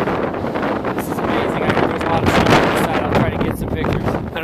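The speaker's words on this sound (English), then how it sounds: "It's really windy. It's starting to pick up" Strong, steady wind on a mountain summit roars and buffets the microphone in a continuous rushing noise, with no clear pauses.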